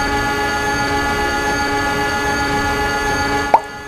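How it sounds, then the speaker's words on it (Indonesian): An animated train brakes hard in a steady, droning mechanical rumble with sustained tonal whine that holds evenly, then ends with a brief sharp knock near the end. "di sini kereta sudah berusaha untuk mengerem"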